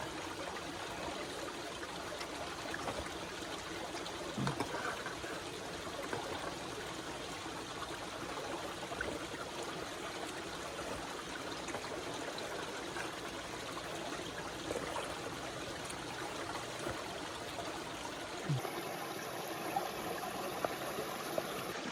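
A stream of water flows steadily nearby with a constant trickling, rushing wash through the whole stretch, fairly soft, outdoors, with a couple of brief knocks and no talking.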